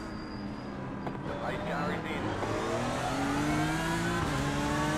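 A BMW M4 GT3 race car engine in the iRacing sim game revs and climbs through rising pitch under continuous accelerating drone, moderately loud with a brief gear-change dip, while a voice talks over it.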